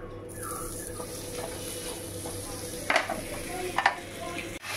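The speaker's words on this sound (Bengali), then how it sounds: "আর চিকেনটা এখানে ভাজছি, হালকা করে ভাজছি।" Chicken that had been frozen hard in the fridge fries lightly in a pan with a soft continuous sizzle, broken by a couple of sharper clinks and stirring scrapes nearby.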